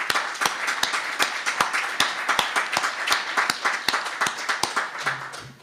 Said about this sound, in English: Maybe a round of applause for Babar Sahab.